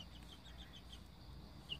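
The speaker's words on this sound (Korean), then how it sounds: "꼬꼬야, 꼬꼬야, 일로 와, 우리 가자." A chicken gives a few soft, quick clucks close by in a quiet farmyard setting, faint against low background noise.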